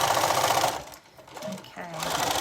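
A sewing machine stitches fabric with a fast, steady mechanical chatter that drops out briefly mid-clip and then resumes, up close, while a person talks over it.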